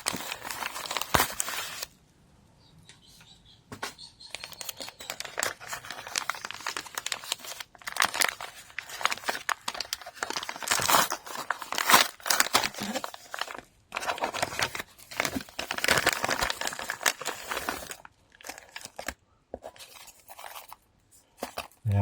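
Crinkling and tearing of a double envelope package being opened by hand, close and intermittent rustles with brief pauses, no talking.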